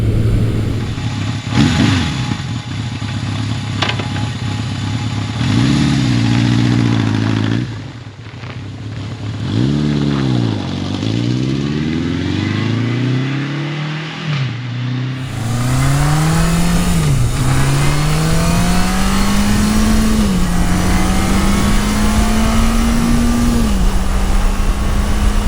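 A 1980 Yamaha XS1100 Special classic motorcycle being ridden, its loud close engine rising and falling through repeated revs and gear changes, then pulling steadily upward in pitch as it accelerates through the gears with wind noise.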